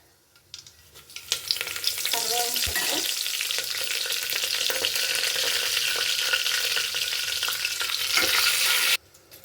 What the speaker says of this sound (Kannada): ನೋಡಿ ಎಣ್ಣೆ ಕಾದಿದೆ ಸಾಸಿವೆ